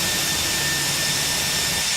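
Idling Airbus A319 jet engines in the ToLiss flight simulator, a steady broad roar with a thin high whine, continuous and even, with no talking.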